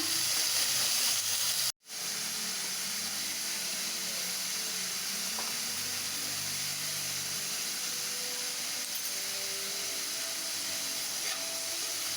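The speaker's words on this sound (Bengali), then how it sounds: "এই করলাগুলো আমি ভাজি করে ফেলবো" Bitter gourd (karela) slices fry in a pan with a steady, close sizzling hiss that drops out briefly near the start, then returns and runs on without talk.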